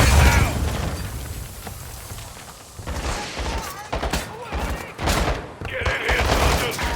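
Combat in Call of Duty: Modern Warfare 2 with an RPG rocket and gunfire, loud bursts of shots and explosive booms under shouting voices.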